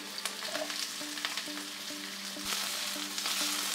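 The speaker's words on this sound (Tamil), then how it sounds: "எண்ணெய் நல்லா சூடானதுக்கப்புறமா ஃபஸ்ட்டு வந்து நம்ம நறுக்கி எடுத்து வச்சுருக்க கேப்சிகம் சேர்த்துக்கலாம்." Loud, close sizzling of chopped capsicum frying in hot oil, with bubbling crackle and occasional stirring clatter throughout; no voices.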